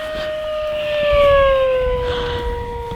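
An E-flite V1200 RC plane at full throttle makes a loud, steady engine whine passing overhead, its high tone sliding slowly downward as it swells and then fades over a few seconds.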